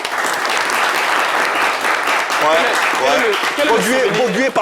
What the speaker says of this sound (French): On va juste l'applaudir bien fort